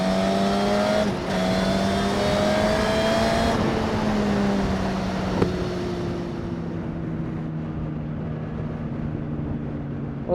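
A 2021 Suzuki Katana motorcycle, still being broken in and fitted with an AR6 exhaust, idles and revs with a droning engine tone that rises and then settles back, heard close and without talk.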